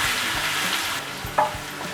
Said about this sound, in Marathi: साधे जिरे, वेलदोडे, काळे मिरे, कट केलेल्या मिरच्या टाकून घेऊ आणि एकदा परतवून घेऊ